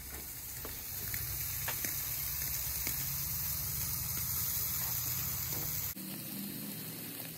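Steak searing under intense heat, a steady close hiss and crackle of sizzling that holds evenly throughout, with a brief shift in tone near the end.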